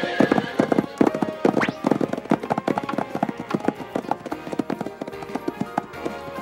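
Horses gallop in an animated cartoon, a dense run of rapid hoofbeats with a neigh rising through it, loud and close, while voices call out over the action.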